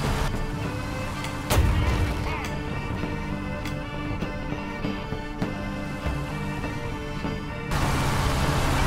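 A tank in War Thunder takes hits during a desert battle: a few sharp impacts and booms, one heavier near the start, over a steady engine and battlefield rumble, moderately loud and close.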